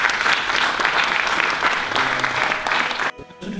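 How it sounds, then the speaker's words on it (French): A full, dense round of audience applause at a regional morning gathering on fighting illiteracy, loud and sustained for about three seconds before stopping abruptly, followed by a brief low voice. "On peut l'applaudir bien fort."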